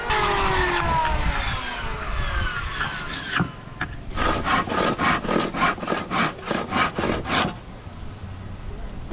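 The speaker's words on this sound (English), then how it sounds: "it's the sacrificial piece that he's planing down right now." Kasai wood is planed down as a sacrificial piece during a dive boat restoration in the Philippines. A long rough planing stroke comes first, then a quick run of about ten rhythmic, close and loud rasping strokes.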